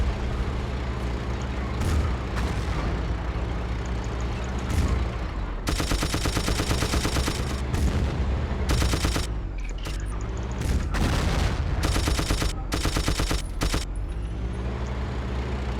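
Rapid gunfire in Battlefield 1942 Secret Weapons on the Hellendoorn map: dense bursts of automatic shots crackle in quick, loud runs with short pauses, alongside vehicle engine rumble and other battlefield noise, no talking.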